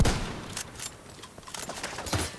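Gunfire in Tom Clancy's The Division 2, a game shootout where several sharp, loud shots crack out irregularly over a busy background of game action.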